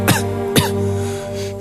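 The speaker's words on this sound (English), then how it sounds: "We're all coughing." Two sharp, close coughs in a dusty old house, about half a second apart, over a steady low hum.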